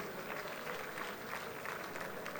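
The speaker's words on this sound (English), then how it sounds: "let's clap for Guinea-Conakry for accepting to host the next Congress" An audience at a gala dinner and awards ceremony applauds steadily, a soft, continuous patter of many hands heard from a distance throughout.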